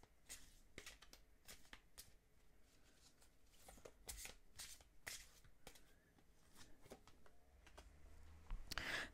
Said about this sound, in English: I'm just going to go ahead and give it a proper shuffle.